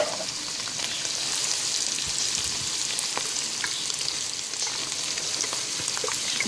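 Tomato sauce sizzles loudly in a hot pan with bacon fat, frying steadily and crackling with small pops for several seconds, without any talk.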